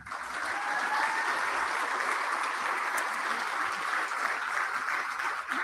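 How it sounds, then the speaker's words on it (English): A room of attendees applauds Governor Whitmer at a company expansion announcement event, a steady wash of clapping that stays moderately loud and even throughout with no speech. "let's give a round of applause for Governor Whitmer"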